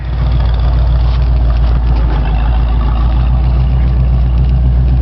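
A 1975 Ford Bronco's 351W V8 engine idling in first gear with a deep, steady rumble and throbbing low pulse, loud and close, running continuously throughout.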